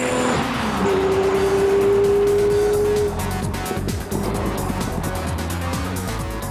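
A Lamborghini Murciélago with a V12 engine driving hard on the Hockenheim track: a loud, close engine roar with a long rising gear pull, then quick shifts and uneven revving as it continues.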